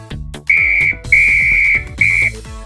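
A whistle blows three sustained, high-pitched notes with short gaps between them, loud and close, over a light rhythmic background.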